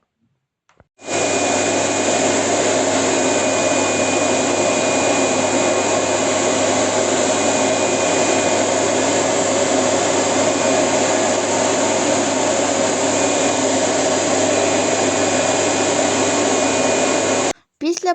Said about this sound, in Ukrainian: Перше включаємо подачу води, а потім сам пилосос